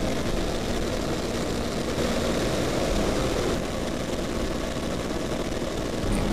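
A P-51C Mustang's piston engine and propeller drone steadily and loudly from inside the cockpit in flight, a continuous dense roar with a faint steady tone and no talk.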